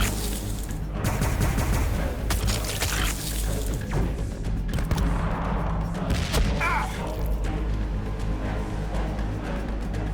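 Dense enemy gunfire from a Warhammer 40,000: Battlesector battle: sustained fusillades of overlapping shots and rapid bursts, with crashing impacts throughout, loud and continuous.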